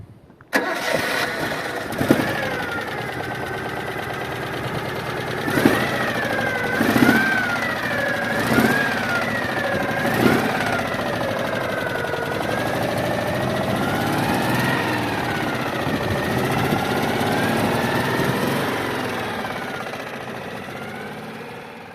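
The small air-cooled twin-cylinder engine of a Citroën 2CV starts with a few sharp bursts, then settles into a steady running drone whose pitch rises and falls slightly as it revs, heard alone without voices.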